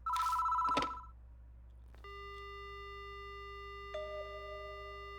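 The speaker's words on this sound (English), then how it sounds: "The phone begins to ring." A telephone rings in a horror video game, one loud burst of electronic ringing, followed after a pause by a steady dial-tone hum with a shifting tone near the end.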